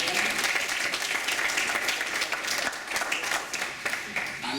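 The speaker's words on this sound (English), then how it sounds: "A round of applause for Mr." Steady applause from an audience at a Black History Month campus event, dense and sustained clapping filling the room at close range throughout, with no one speaking over it.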